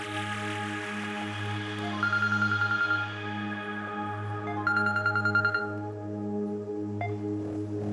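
A mobile phone rings with a melodic electronic ringtone for an incoming call, repeating tonal phrases over a steady low hum, loud and close with no talk.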